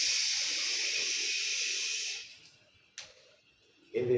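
A voice imitates a hissing steam jet with a long, loud, breathy hiss lasting about two seconds, fading out, followed by faint breaths.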